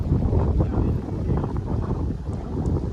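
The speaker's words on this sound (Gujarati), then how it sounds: "અહીં ઠંડો પવન આવે છે" Strong cold wind on a coast buffets the microphone in a continuous low roar, gusting steadily with no other clear sounds.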